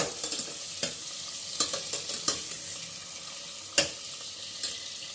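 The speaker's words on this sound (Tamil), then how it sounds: "ஸோ ஆனியன் ஃபஸ்ட்டு ஆனியன் போட்டுருங்க. ஓகே, நல்லா கொஞ்சம் ஃப்ரை பண்ணிக்கோங்க." Onions fry in a pan for chana biryani, giving a continuous sizzle with irregular scraping and tapping as they are stirred.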